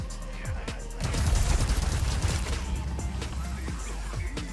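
Gunfire in Resident Evil 4 Remake's Mercenaries mode, playing as Hunk on the Island map: a heavy cluster of rapid shots and impacts, loud and close, trailing off into scattered single reports.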